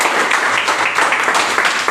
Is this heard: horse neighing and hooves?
no